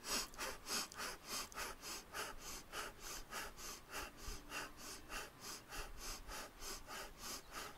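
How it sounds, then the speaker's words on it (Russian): Belly breathing exercise: a steady series of about twenty quick, forceful breaths, close and fairly loud, evenly paced with no one speaking. "дыхание низом живота и энергетически."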